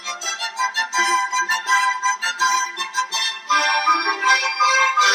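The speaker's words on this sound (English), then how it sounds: "the first bell that we heard was played by the piano" A bell-like melody played on a piano rings out as a run of bright, evenly struck notes, loud and close with no talking over it.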